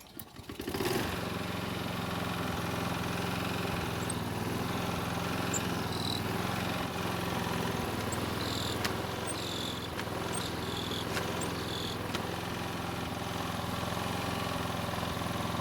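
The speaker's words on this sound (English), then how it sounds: "all we have to do now is start the mower and test out the self-propel" A self-propelled lawn mower engine starts with a brief burst and then runs at a steady mid-pitched drone throughout, moderately close, with faint high chirps and clicks scattered over it and no talk.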